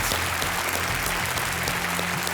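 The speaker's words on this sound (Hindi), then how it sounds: "जोरदार तालियों के साथ इनका स्वागत किया जाए।" Studio audience applause welcoming new contestants on a Hindi quiz show, a dense, steady wash of many hands clapping loudly throughout.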